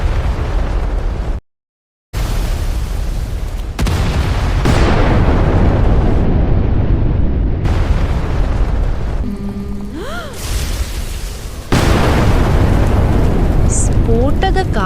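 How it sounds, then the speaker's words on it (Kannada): In an animated story, a witches' spell goes wrong and sets off a loud explosion effect: booming bursts and rumbling blasts that break briefly into silence, followed by whooshing and sparkling tones. "ಇದರಿಂದ ಎಲ್ಲ ಶಕ್ತಿಯು ಒಂದಾಗಲಿ, ಸ್ಫೋಟ ಉಂಟಾಯಿತು."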